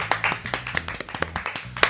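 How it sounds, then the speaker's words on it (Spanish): Studio applause on a Spanish-language news talk show: a small group clapping in a steady, fairly even rhythm, close and moderately loud, with a sharper clap near the end and no voices over it. "¡Un aplauso!"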